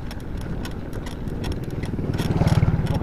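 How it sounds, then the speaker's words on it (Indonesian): A motorcycle engine rumbles along a road, growing louder and throbbing more strongly toward the end as it draws near, with no talk over it. "Depan ada motor."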